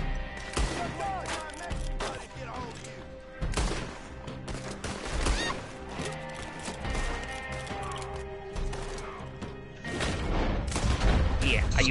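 Gunfight in Red Dead Online, with dense overlapping gunshots cracking and booming in rapid bursts throughout, some shots near and heavy, others in quick volleys, over a constant rumbling background.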